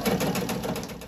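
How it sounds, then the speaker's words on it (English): A sewing machine stitches a quarter inch seam along the left edge of quilted fabric pieces for an oven mitt, a brief steady close-up whirring hum. "we will sew this seam here along the left edge"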